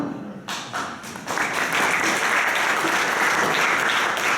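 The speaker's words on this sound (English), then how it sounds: "the audience is allowed to clap" After a few scattered, separate claps, a debate audience on freedom of expression breaks into full, steady applause that stays loud and even to the end.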